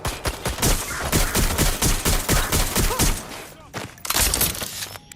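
Rapid automatic gunfire from an active shooter in Watch Dogs Legion, a long close burst of evenly spaced loud shots, a short pause, then another dense volley.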